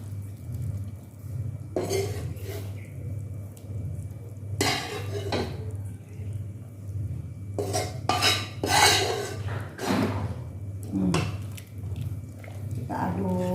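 Fried spice paste is stirred into soto ayam chicken broth in a metal pot, a ladle scraping and clanking against the pot in irregular bursts over a steady low hum from the stove.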